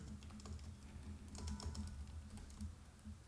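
Fingers type quickly on a computer keyboard, a soft, close patter of key clicks running continuously at low volume with no voices.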